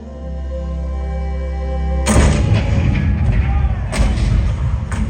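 A steady low mechanical drone is cut off by a sudden heavy cannon blast, followed by rumbling and a second boom shortly after, in a theme-park show at Disneyland.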